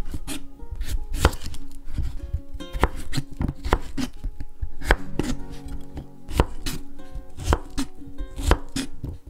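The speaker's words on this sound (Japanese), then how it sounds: "彩り緑きゅうりちゃん。 これも角切りにします。" A knife dicing cucumber on a cutting board, a brisk run of sharp, close chopping knocks at an uneven rhythm, each cut crisp and distinct, with no talking.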